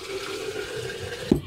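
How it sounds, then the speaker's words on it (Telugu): Water runs steadily into a kitchen container, a continuous rushing flow with a faint tonal ring, ending with a brief louder splash. "సో దీనికి ఏం చేయాలంటే ఫస్ట్ దీని నిండా వాటర్ తీసేసుకోవాలి."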